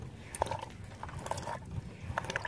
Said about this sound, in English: That's the sound of the impeller smacking in the water in there.